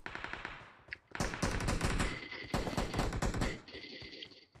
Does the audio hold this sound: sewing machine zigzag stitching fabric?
no